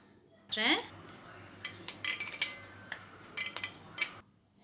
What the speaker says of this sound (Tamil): எல்லா பிஸ்கெட்டையும் இப்படி உடச்சி நம்ம எடுத்துக்கணும்